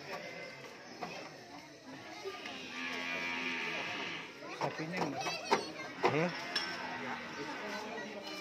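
Cattle awaiting sacrifice low repeatedly at a distance, a steady chorus of moos under a voice counting aloud, with occasional clinks and chatter nearby.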